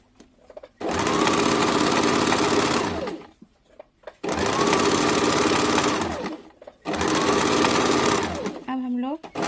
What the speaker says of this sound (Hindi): अब हम लोग सिंथेटिक वाले कपड़ा और कॉटन अस्तर दोनों में पिको कर लेंगे